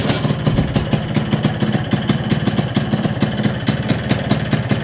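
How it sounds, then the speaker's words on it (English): A Vespa PX125 scooter engine idles steadily after a kickstart, its rapid even putter close and loud and repeating without a break, with no talking. "I'm going to kickstart it and see how it goes."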